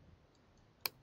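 Two sharp, crisp key clicks land close together near the end, a Ctrl+T shortcut pressed on a computer keyboard in an otherwise quiet room.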